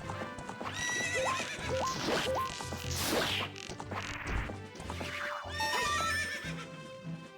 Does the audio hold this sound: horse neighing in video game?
yes